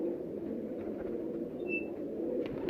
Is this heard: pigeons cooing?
yes